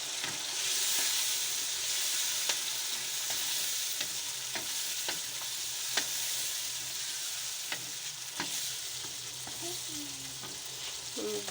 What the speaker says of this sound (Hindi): तीन 4 मिनट इनको मिक्स करेंगे।